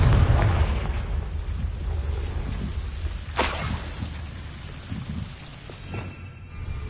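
A Confringo blasting spell goes off in Hogwarts Legacy with a muffled boom at the start, then a sharp bright crack mid-way amid a hissing, rain-like ambient wash.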